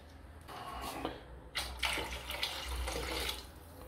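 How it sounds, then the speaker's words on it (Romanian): Water pours into a pot for potato soup in a home kitchen, a splashing stream that starts and stops in short bursts, close and moderately loud. "turnăm apă, punem apă"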